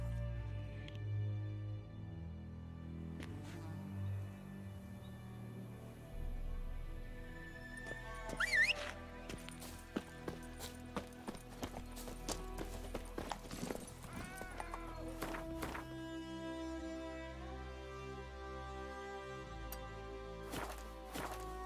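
A horse's hooves clip-clop along in The Witcher 3, soft and somewhat distant beneath game music and ambience, with a few louder clatters midway.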